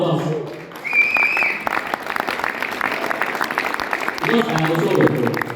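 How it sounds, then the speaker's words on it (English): Audience applause at a Riway star meeting in Poland: sustained clapping from a crowd filling the room, steady and fairly loud, with a voice speaking over it near the end. "Give yourself a big round of applause"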